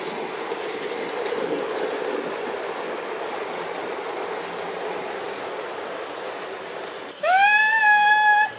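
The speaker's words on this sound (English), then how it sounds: "that sounds just like a Southern Region bullied West Country locomotive" Hornby Blackmoor Vale OO gauge model steam locomotive pulling five coaches, giving a steady, moderately loud running rumble that continues for several seconds before a sharp, clear whistle sounds near the end.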